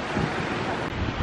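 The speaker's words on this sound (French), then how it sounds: "Par contre il y a un vent, bah, c'est l'automne quoi." Strong autumn wind blowing outdoors in London, a loud continuous roar buffeting the microphone throughout the short stretch.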